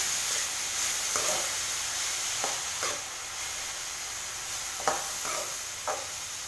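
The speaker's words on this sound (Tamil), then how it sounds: "உப்பு சேர்த்த பிறகு இதை நல்லா மிக்ஸ் பண்ணிவிட்டு கொஞ்சம் நேரம் வேக விடணும்" Vegetables and leftover puttu fry in a little oil under a constant bright sizzle, with soft scraping stirs every second or so close by.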